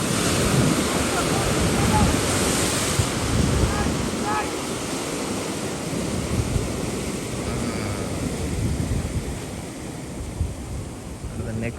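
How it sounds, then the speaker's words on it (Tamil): Ocean waves at Peanut Farm beach in Arugam Bay, a surfing spot, roar and wash continuously onto the shore, a loud, steady broadband rush heavily mixed with wind buffeting the microphone. "அலை வருது, அலை வருது, அலை வருது."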